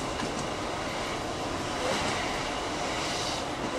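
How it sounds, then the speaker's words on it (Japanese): A JR West 117-series train arriving at Okayama Station's platform 2 rumbles steadily with a broad rushing roar, close by and sustained, with no voices. "列車は左側2番乗り場の到着です。"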